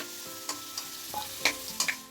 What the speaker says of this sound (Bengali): ডুমো করে নতুন আলু কেটে নিয়েছি, এই অল্প গরম তেলেই দিয়ে দেবো।